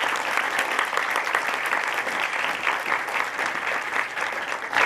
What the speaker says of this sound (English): So please give a round of applause for Ms.